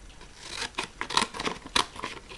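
Scissors snip through material in a few short, crisp cuts spaced irregularly, close and fairly quiet with no talking.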